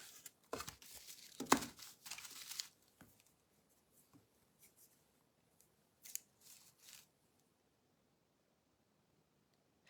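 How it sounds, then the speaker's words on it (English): Craft material being cut with scissors in a quiet room: a cluster of crisp snips and crinkly rustles up front, then a few sparse, faint cuts and handling noises spread apart. "So I'm going to just cut some of this."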